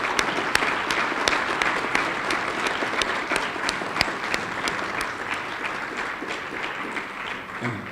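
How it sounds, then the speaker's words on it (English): A crowd at a police chief candidate town hall claps steadily, a dense, even round of applause lasting throughout with a few sharper individual claps standing out near the front. "please join me in giving a round of applause to the candidates for the chief of police position"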